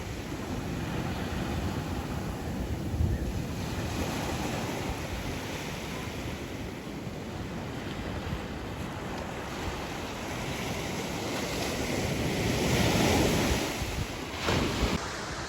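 Ocean surf waves at Crescent Bay Beach in Laguna Beach wash in continuously with steady roaring breakers and wind buffeting the microphone, swelling louder near the end, no speech.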